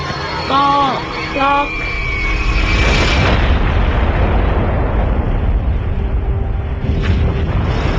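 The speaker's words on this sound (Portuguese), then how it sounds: "A Little Boy explodiu sobre Hiroshima com uma força de mais de 13 mil toneladas de TNT" The Little Boy atomic bomb exploding over Hiroshima: a loud, deep, sustained roaring blast that swells and slowly fades, preceded by short voice-like tones, close and dominant.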